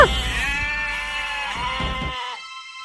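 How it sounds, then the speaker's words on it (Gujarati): A goat bleats loudly and close by in a long wavering cry, then a second shorter bleat trails off into quiet. "આમાંથી બકરીનો અવાજ કેમ આવી રહ્યો છે"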